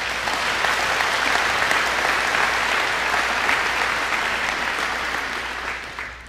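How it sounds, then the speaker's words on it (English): An audience at a high school commencement applauds in a dense, loud, sustained burst of many hands clapping, holding steady for about six seconds before tapering slightly. "If we could give them a round of applause."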